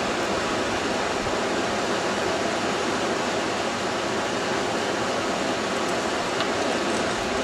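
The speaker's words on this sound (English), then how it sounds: "The river sound is some I've dubbed in." River sound effect dubbed over a small creek at a gold-prospecting site: a steady, dense rush of flowing water, loud and unbroken throughout, with no voices.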